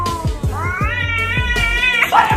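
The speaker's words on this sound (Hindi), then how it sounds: "यहाँ एक बिल्ली दूसरे बिल्ली को घूर रही थी और उसके ऊपर गुस्सा कर रही थी।" Two angry cats, one glaring at the other, let out loud, close yowls: a drawn-out rising caterwaul over low growling pulses, ending in a harsher screech.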